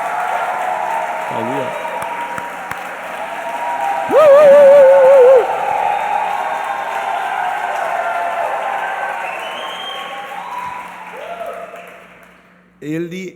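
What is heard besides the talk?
congregation applauding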